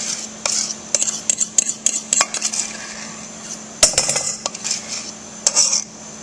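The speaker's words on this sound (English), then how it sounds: "Okay, I'm just going to mix it up" A spoon stirs apples into a cream cheese mixture in a bowl for mini apple tarts, giving close, irregular clinks and scrapes against the bowl with short pauses between strokes.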